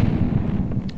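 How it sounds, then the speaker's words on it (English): A cherry bomb explodes in Stardew Valley with a steady, loud, low rumbling boom that fills the whole moment without pause. "I'm gonna have to cherry bomb through here."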